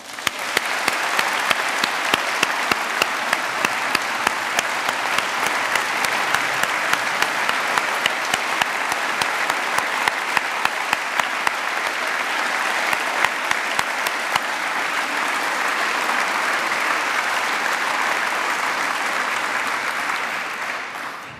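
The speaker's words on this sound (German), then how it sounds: "Einen grossen, kräftigen, riesigen Applaus für euch." Big, sustained audience applause for a children's yodel choir at a CD christening in Oberriet, dense and loud from many hands, holding steady for about twenty seconds before tapering off at the end.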